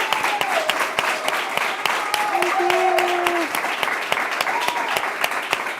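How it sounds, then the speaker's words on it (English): A studio audience at a real estate talk show applauds, sustained dense clapping with sharp individual claps, while a voice speaks over it and a soft musical tone plays beneath. "Please give her another huge round of applause."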